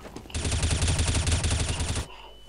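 Burst of rapid automatic gunfire in a first-person shooter video game, loud and continuous for about two seconds before cutting off abruptly.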